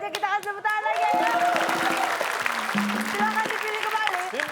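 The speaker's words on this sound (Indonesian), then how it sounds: "Kita lanjutkan aja, kita kasih tepuk tangan lagi." Studio audience applauding steadily on a comedy quiz show, broad continuous clapping with musical tones and a voice or two layered over it.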